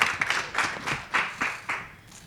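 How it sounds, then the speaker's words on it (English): Scattered clapping from a small audience welcoming speaker Sathya Gopalakrishnan to a water-focused talk, a few separate bursts that thin out and fade over a couple of seconds, fairly quiet and without talk. "Please give a big round of applause for Sathya"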